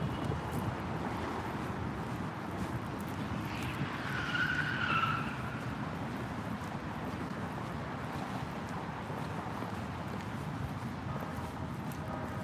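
A car passes along a Houston street, a steady broadband road rumble swelling slightly around the midpoint with a brief tire-like squeal, then settling back into continuous traffic noise with no voices.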